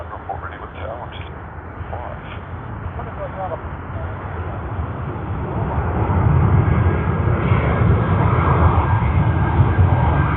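An airliner's engines rumble and gradually swell louder while it taxis at Sydney Airport. Crackly air-traffic radio chatter plays over the steady roar throughout.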